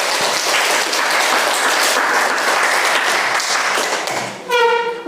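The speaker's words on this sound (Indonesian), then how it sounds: "Tepuk tangan untuk kamu dulu." Classroom applause from a group of teacher trainees, a dense sustained clatter of many hands clapping steadily throughout, ending with a brief burst of cheering at the close.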